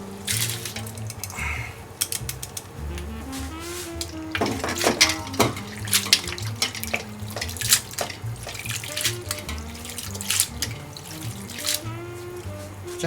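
Cooked noodles are drained and rinsed, then dropped into ice water, with trickling and splashing water heard up close under soft background music.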